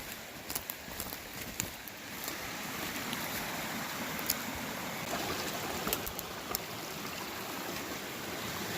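Creek water at an old gold-mining site flows and trickles in a steady broadband wash, with occasional faint clicks and knocks on top, close by and without voices.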